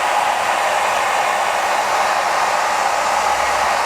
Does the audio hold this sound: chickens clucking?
no